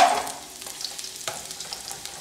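Onion sautéing in a pan for adobo fried rice, with a soft sizzle and light stirring scrapes over about two seconds, fairly quiet and close, no talk.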